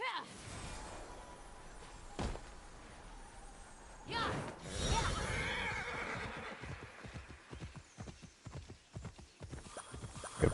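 A horse ridden in the video game Immortals Fenyx Rising, with a loud whinny near the middle and a rapid run of hoofbeats toward the end. A voice talks over it, and a sharp impact is heard early.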